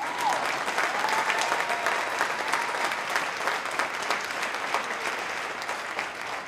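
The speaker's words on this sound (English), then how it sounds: "Now you can clap." An audience claps continuously at a Seattle City Hall MLK celebration, a dense, steady wave of applause that fades slightly toward the end.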